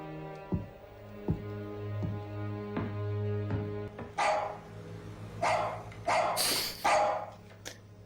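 A dog barks in a Band of Brothers war-drama scene, a few sharp barks spaced out over a steady low background hum, with louder, brighter yelps bunched toward the end.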